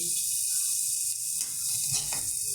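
Onions frying in a pan with turmeric powder added, a steady close sizzle with occasional stirring scrapes throughout.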